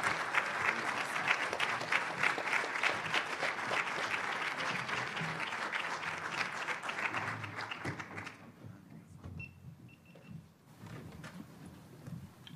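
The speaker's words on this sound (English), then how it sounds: "get ready to not only applaud her, but give her a great round of applause and gratitude" Audience applause at a cannabis union event, a dense, lively round of many hands clapping that holds steady, then drops sharply and trails off into scattered claps and quiet room noise.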